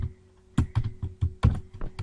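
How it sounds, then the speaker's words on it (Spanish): Keys clatter on a computer keyboard as a matrix is entered into MATLAB, a quick uneven run of close, crisp keystrokes with short pauses between bursts and no talking. "vamos a digitar el punto y coma después del corchete"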